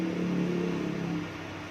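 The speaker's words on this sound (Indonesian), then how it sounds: "Ini mesinnya udah hidup." A car engine idles after a cylinder head has been fitted, a steady low rumble and whir close to the microphone that eases slightly toward the end.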